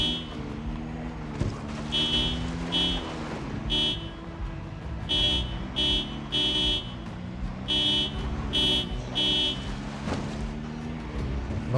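A car alarm in the zombie survival game Project Zomboid blares in a repeating on-off pattern of harsh electronic tones over a low engine-like hum, continuing for several cycles.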